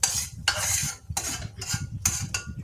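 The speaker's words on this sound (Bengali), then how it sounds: "কড়াইটা শিফট করে দিলাম" Metal kadai shifted and stirred while cooking a Bengali pui shak chhanchra, giving repeated scraping and clattering bursts of utensil against pan, close and fairly loud, with short pauses between strokes.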